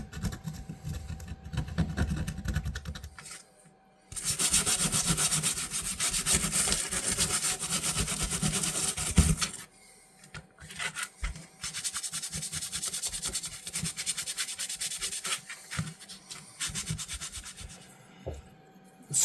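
Rust is scraped off an old fisherman knife with steady, close rasping strokes in two long runs split by a short pause, with some quieter scratching at the start.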